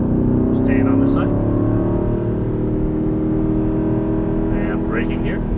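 A race car engine drones loud and close under full throttle out of a corner, a sustained rising mechanical roar with layered harmonics, while someone talks over it briefly.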